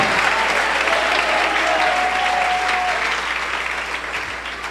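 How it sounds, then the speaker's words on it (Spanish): A church congregation claps loudly and steadily in a sustained wash of applause, with a faint tone briefly sounding through it and the clapping easing slightly toward the end. "Un aplauso fuerte a Cristo"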